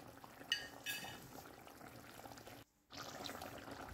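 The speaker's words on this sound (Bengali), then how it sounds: "ফুটন্ত ঝোলের মধ্যে মাছগুলো দিয়ে দিলাম" Fish curry with potato and pointed gourd simmering in a pan, giving a faint, soft bubbling with a few small splashes and a brief pause, with no talking.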